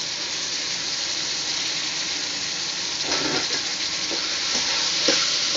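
Beans and carrots sautéing in a pan for semiya, a steady close sizzle that runs throughout, with scraping stirring strokes breaking in during the second half.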